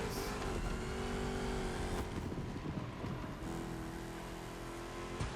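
Simulated Dodge Hellcat engine from the iRacing racing game, about 1187 horsepower, droning loud and continuous with shifting pitch as the car brakes and accelerates through turns.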